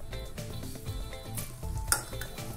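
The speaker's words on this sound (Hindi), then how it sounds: "सबसे पहले हम तोरे को थोड़ा सा फ्राई कर लेंगे।" Ridge gourd frying in about three spoons of hot oil with asafoetida in a kadhai: a continuous close sizzle with the clink and scrape of a spoon stirring against the pan.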